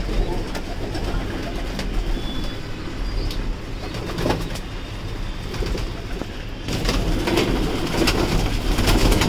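Young racing pigeons coo steadily while waiting for food on a rainy day, their calls close and continuous over a constant wash of background noise.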